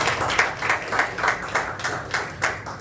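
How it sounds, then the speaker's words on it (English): An audience at a school board meeting applauds students with a light, steady run of hand claps, fairly close and unaccompanied by speech, the individual claps distinctly audible as a loose rhythm. "So I just want to give one more round of applause to our students."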